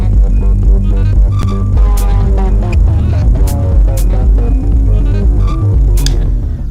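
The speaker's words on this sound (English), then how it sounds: "I like the sound of the filter opening and closing" A loud, distorted synth tone throbs steadily while its brightness sweeps open and closed, with occasional sharp clicks.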